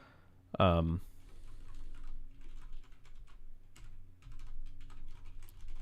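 Computer keyboard keys clatter in a steady, close run of light clicks as notes are typed, following a brief burst of voice near the start.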